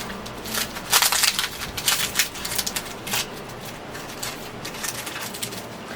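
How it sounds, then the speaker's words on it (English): The outer skin is peeled off a luffa gourd: close, dry crackling and crunchy tearing in irregular bursts, loudest in the first few seconds, then a steadier, softer rustle. "I'm going to go ahead and peel off that outer skin."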